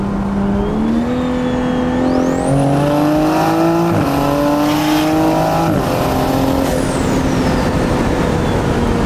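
Toyota A90 Supra with a big-turbo B58 engine pulling hard in third gear, a loud close engine note climbing steadily in pitch with a rising turbo whistle and brief dips at shift points.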